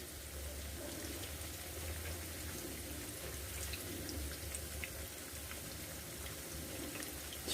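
Cabbage and chicken pakoras deep-fry in oil over medium heat, a soft, continuous bubbling sizzle with scattered pops, faint and unbroken from start to finish.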